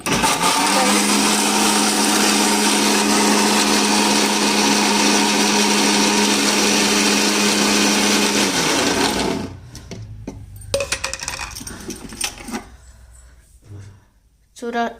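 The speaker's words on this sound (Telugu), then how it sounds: "బనానా వేసేసి మిల్క్ వేసేసేది, మిక్సీ పట్టేసేది" A mixer grinder blends banana and milk for a milkshake at home, roaring loud and steady with a constant motor whine for about nine seconds. It then stops abruptly, leaving scattered clatter and handling noises.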